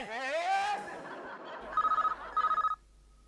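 A telephone bell rings loudly in two short trilling bursts, set in a household comedy TV show. A brief voice-like tone comes before the rings, and the room falls quiet after them.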